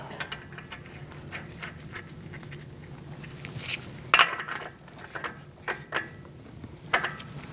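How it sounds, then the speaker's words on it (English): A mechanic threads and snugs an axle nut onto the front wheel hub of a 2002–2006 Toyota Camry, giving soft metallic clicks, a ratcheting whirr and a few sharper clinks, close and fairly quiet with no talking. "now we're going to put our axle nut on"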